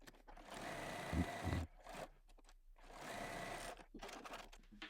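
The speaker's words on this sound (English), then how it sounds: "So we'll head to our sewing machine and we'll sew all the way around here." Sewing machine stitching around a luggage or trolley sleeve, running steadily and close for most of the stretch with short pauses between bursts of stitching.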